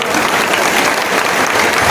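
Loud, dense applause from a large crowd at a political gathering in Kolhapur, sustained evenly for the full two seconds with no pauses.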